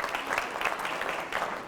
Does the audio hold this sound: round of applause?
yes